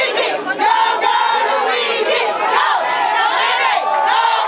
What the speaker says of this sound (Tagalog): muling sinalubong ng hiyawan upang iparating ang kanilang kasiyahan